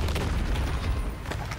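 A destroyed tower in an online battle game explodes as a deep, rumbling boom with crackling debris, loud and sustained for a moment without speech.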